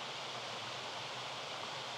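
Small waterfalls rush steadily in the rain, producing a continuous broadband roar with no pauses, heard alone without voices.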